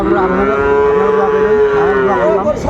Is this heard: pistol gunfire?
no